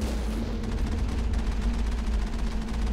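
Sniper fire strikes the Mako vehicle in the video game Mass Effect, with rapid repeated shots and impacts over a steady low engine rumble, fairly quiet and continuous, with no voices.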